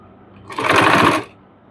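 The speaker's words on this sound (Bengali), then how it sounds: "অর্থাৎ সেলাই দিয়ে নিব।" A sewing machine runs in a single loud, close burst of rapid stitching lasting under a second, sewing a fabric trim onto the hem of a pant leg, with quiet before and after.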